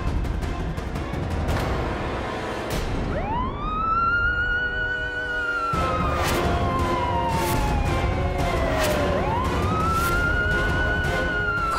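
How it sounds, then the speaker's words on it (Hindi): A police siren wails loudly with rising and falling tones, heard over background music and ambient noise in an Odia TV drama scene. "police siren"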